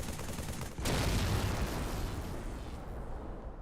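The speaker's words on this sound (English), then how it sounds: "Listen to how generic the electricity sounds in this explosion are." A Lich blows up in Halo 3, a sudden loud explosion with a broad rumbling burst and crackling electricity that slowly fades, heard alone.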